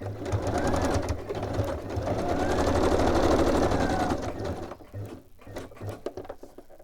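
A sewing machine runs a straight stitch for several seconds, a loud continuous mechanical chatter that then breaks into a few short bursts and clicks.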